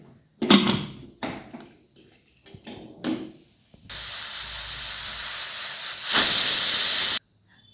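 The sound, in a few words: pressure cooker whistle releasing steam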